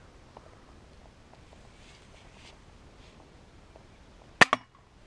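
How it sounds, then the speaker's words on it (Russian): A single sharp gunshot at a police shooting range on Lake Uzunkul, followed closely by a quieter second crack, standing out from faint background noise after a long quiet stretch. "Стреляет Егор Шелудько. Забавно звучит."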